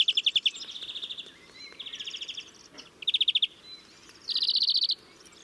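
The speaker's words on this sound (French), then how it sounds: "alors lui, il va pratiquer plusieurs notes." A finch, likened to a greenfinch or canary, sings a recorded song of bright, rapid repeated notes in four distinct trills separated by short pauses, clear and fairly close.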